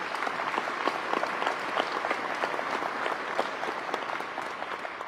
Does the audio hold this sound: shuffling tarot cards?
no